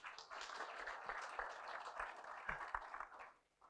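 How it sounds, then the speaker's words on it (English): An audience at a university construction and engineering supplier seminar gives a steady, moderately distant round of applause that holds evenly for a few seconds before fading out. "the collective leadership of the university need to be given a round of applause"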